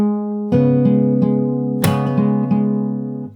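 Fingerstyle acoustic guitar playing a part of a song: ringing picked notes over a sustained bass, with several percussive slaps on the strings, close and clear with no talking.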